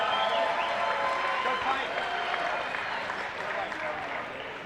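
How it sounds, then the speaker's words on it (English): A crowd at a Shamrock FC mixed martial arts event applauds both fighters after the bout, a dense, steady wash of clapping and crowd noise that eases slightly toward the end. "Let's give both of these fighters a big round of applause."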